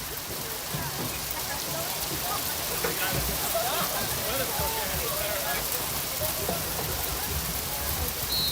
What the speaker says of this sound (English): the rain just started really coming down in an instant